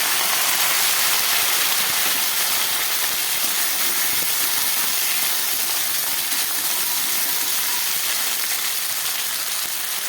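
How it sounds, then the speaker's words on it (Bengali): Cut okra sizzles and fries in hot oil in a pan with a steady, loud, dense hiss that stays close and constant throughout, with no other sounds over it. "এবার আমি কেটে রাখা ঢ্যাঁড়সটা দিয়ে দিচ্ছি"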